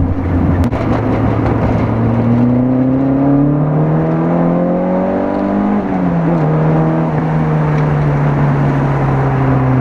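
An old school car engine drives and revs, its tone climbing steadily then dropping with a gear change before holding a lower drone, loud and continuous with no talking.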